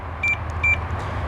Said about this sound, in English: A typical little beep beep that every BMW does nowadays.